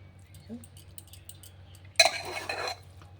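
Veg pulao being stirred gently in a metal pot, heard as a short burst of scraping and clinking from the utensil against the pot after soft handling noises, close and fairly loud over a low background hum.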